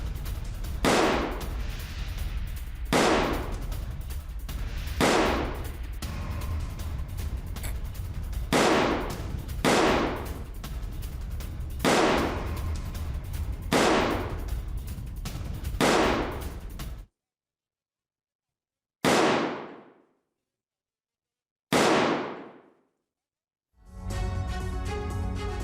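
Gunfire sounds as Russian infantry attack a Ukrainian post. Loud, sharp bursts repeat at irregular intervals of a few seconds, with a few isolated shots separated by abrupt silences near the end.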